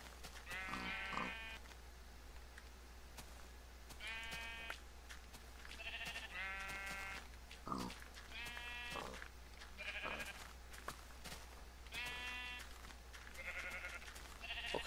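Several sheep in the video game Minecraft bleat one after another at irregular intervals, mid-distance, over a low steady hum.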